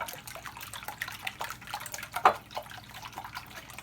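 Milk poured a little at a time into five whisked, beaten eggs for a peach bread pudding, giving a soft, steady liquid trickle and splash with one brief louder splash near the end.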